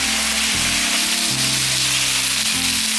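Zucchini pan-frying for a vegan stir-fry gives a continuous close sizzle and hiss, steady across the whole stretch, with a low tonal background underneath and no talking.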